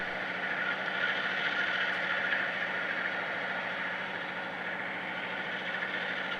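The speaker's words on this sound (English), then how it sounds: "Roaring sounds fill the air." A runaway oil-fueled locomotive engine roars with a steady, dense, droning rumble, loud and unbroken throughout, with no voices.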